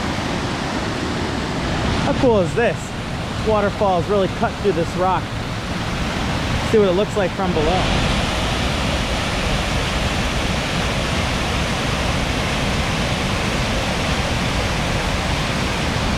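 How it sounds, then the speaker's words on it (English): Loud, steady roar of a waterfall cutting through rock along the Ricketts Glen Falls Trail, close by, with a person talking briefly over the rushing water early on. "This waterfall is really cut through this rock."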